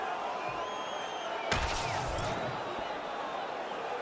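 Arena crowd in the UFC 5 fighting game cheering and roaring at a steady level through a championship fight, with a brief louder crash-like burst partway through.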